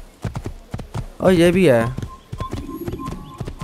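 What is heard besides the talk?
horse hooves clip-clopping in the video game Assassin's Creed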